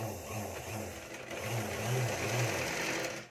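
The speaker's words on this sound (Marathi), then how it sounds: "खाली सरळ सरळ एक टिप टाकून घ्यायची आहे" A sewing machine stitches fabric while a sleeve is sewn, running steadily and close up with a humming, slightly pulsing motor drone that speeds up mid-clip and then stops at the end.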